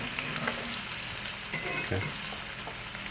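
A rib eye steak sears with garlic in a hot iron pan, giving a steady close sizzle and crackle throughout, with a brief spoken word over it.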